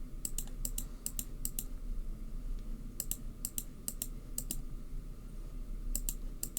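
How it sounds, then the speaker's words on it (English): Rapid computer keyboard clicks and typing in quick clustered bursts separated by short pauses, close and fairly clear over a low steady hum, with no voices. "It's just a lot of clicking."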